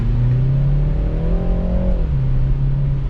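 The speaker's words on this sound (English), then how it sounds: "The sound is quite impressive for a 4-cylinder engine, turbocharged" A turbocharged four-cylinder engine in a 2020 BMW 330i hums steadily from inside the cabin, its pitch climbing as it accelerates, then dropping back with a gear change.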